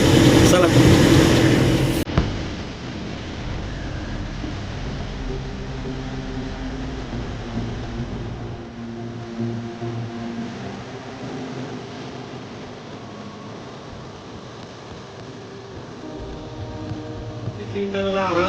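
A pickup truck in second gear climbs the Surli ghat road, its engine a steady, smooth drone heard from inside the cab. Someone talks over it for most of the stretch.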